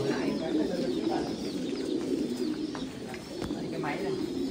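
Pigeons cooing steadily on a Vietnamese pigeon farm, a dense low murmur of many birds with occasional flutters and chirps, continuous and fairly close.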